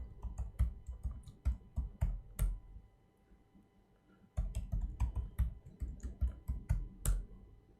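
Someone types a Linux adduser command on a computer keyboard: close, rapid clicking keystrokes in two bursts separated by a brief pause, with no speech.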